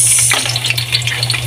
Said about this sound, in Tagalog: ilunod po natin yung ating sibuyas